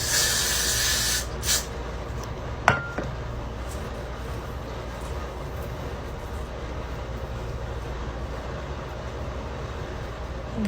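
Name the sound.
hair spray being sprayed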